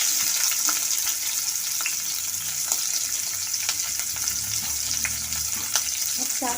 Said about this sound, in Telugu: ఆయిల్ హీట్ అయ్యాక ఇప్పుడు ఇందులోని నేను పచ్చిమిర్చి ఇంకా ఆనియన్ వేసుకుంటాను.